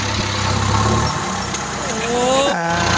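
A Kubota MU 5501 tractor engine idles loud and close on a cassava farm field, with a continuous rumbling drone whose pitch shifts slightly up and down.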